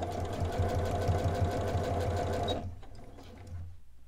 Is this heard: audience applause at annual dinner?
no